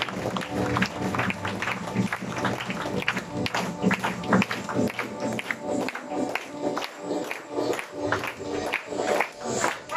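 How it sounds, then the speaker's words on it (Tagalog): Energetic applause and cheering from a large crowd at a business rally event, dense clapping with some rhythmic beats running underneath, loud and sustained throughout. "At hindi naman ang palakpak para kay Apply Roger!"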